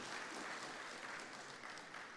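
An audience claps steadily at a gold-sector event in Indonesia, a soft, even wash of applause with no clear peaks, heard at a distance and fairly faint, with a low murmur of talk underneath.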